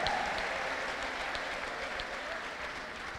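A church congregation claps together in a sustained, even round of applause at moderate distance, the many hands forming a continuous patter with no talk over it.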